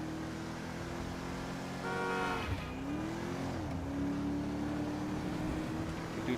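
Rolls Royce engine in GTA 5 running at a steady drone with a rising and falling pitch as the car drives, plus a brief tonal horn-like burst partway through, fairly faint and without talk.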